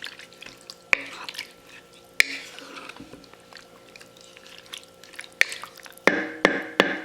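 Beef broth in a crock pot is stirred, producing soft liquid sloshing along with sharp spoon knocks against the pot at irregular intervals. The clinks grow louder and more frequent toward the end, and the sound is close.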